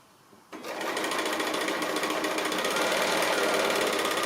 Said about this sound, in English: So just sewing on the line that we've drawn or marked